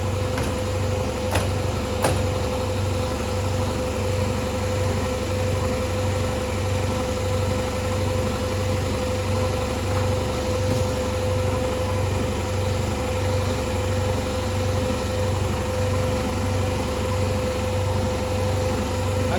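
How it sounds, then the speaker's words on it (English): Air compressor running steadily with a low, even pulsing drone and a constant hum, moderately loud in a workshop, with no voices. "give it a minute for that compressor to shut off"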